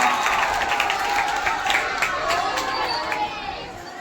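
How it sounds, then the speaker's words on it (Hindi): Schoolchildren at a Hindi-school quiz competition cheer and clap loudly for a correct answer, a noisy burst of applause mixed with shouting and chatter that gradually fades. "जोरदार तालियां हो गई।"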